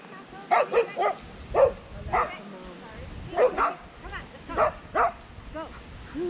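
Puppies bark and yip in a quick series of sharp, close barks outdoors beside a ski trail with skiers passing, the loudest bursts spaced irregularly over several seconds, with people's voices around them.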